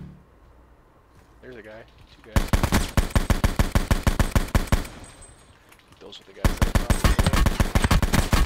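Call of Duty: Blackout gunfire: two long, loud bursts of rapid automatic fire, each lasting a few seconds, with a short lull between and a brief voice before the first.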